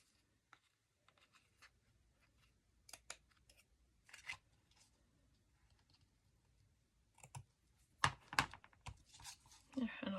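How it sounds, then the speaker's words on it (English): Scissors snip the small ends off a playing card in a few short, sharp cuts scattered through near silence, with paper crinkling and brief handling noises, no speech over them. "I'll cut the little ends off"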